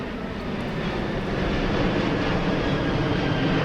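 A steady, loud jet engine roar from an aircraft in the video game Teardown drones on without a break, swelling slightly as the aircraft passes close by.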